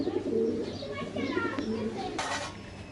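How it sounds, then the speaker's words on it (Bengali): A green pigeon with red eyes, kept in a loft, gives a few soft, close, low coos over a brief stretch, with faint background chirps. "অরিজিনাল সবুজ গোলা কবুতর দেখছেন কত সুন্দর কবুতরটা"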